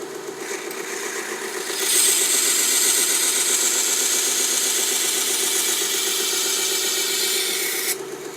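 A Vevor 1x30 belt grinder running steadily, its tone rising into a loud, even rasping grind as a blade is pressed against the belt for about six seconds, then easing back to the motor's hum.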